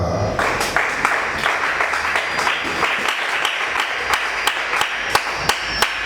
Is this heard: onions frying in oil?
no